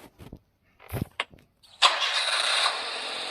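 A car engine in Minecraft cranks and catches, then settles into a steady, fairly loud hum that holds to the end, after a few short game clicks and thumps.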